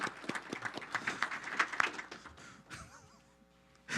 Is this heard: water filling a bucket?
no